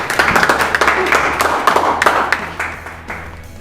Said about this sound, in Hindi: तालियां बजा दीजिए सब।